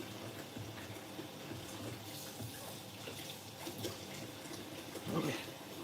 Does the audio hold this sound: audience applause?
no